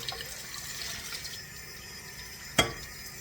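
Hot water runs from a kitchen tap into a clean bowl, giving a steady, even rushing hiss throughout, with one brief sharp clatter near the end.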